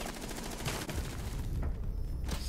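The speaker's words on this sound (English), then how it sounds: "he's looking for a headshot here and almost gets it as Yummy goes almost all the way down." Gunfire from the video game Rainbow Six Siege during a competitive match, a quick burst of shots and rattling fire heard fairly faintly under a dense background.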